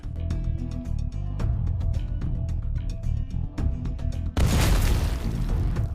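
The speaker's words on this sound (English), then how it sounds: "explosions sounded again" Deep booming blasts from drone strikes rumble continuously, with a sharp louder burst near the end that swells into a roaring, crackling wash of noise.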